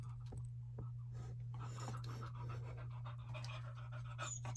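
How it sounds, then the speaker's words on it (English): A dog pants heavily in a steady, rapid rhythm close by, with faint scratching and a low electrical hum underneath. "Theo, you're breathing too hard"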